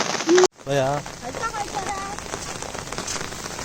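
Heavy monsoon rain in Konkan pours down as a steady broadband hiss, loud and continuous, after a brief burst of a voice and a short cutout near the start.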